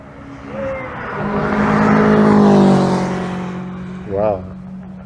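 A Clan car at Goodwood Motor Circuit approaches and drives past, its engine swelling to a peak and then fading. Someone talks over the pass.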